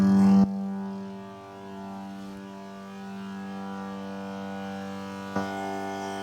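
Holley electric fuel pump humming steadily from inside a car, a constant low tonal drone with a short louder burst at the start and a brief click near the end.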